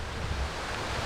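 A river or stream running right beside a campsite at Hurricane campground in the Mount Rogers recreation area, swollen from thunderstorms, gives a steady broadband rushing wash with low rumble, close and continuous, no voices.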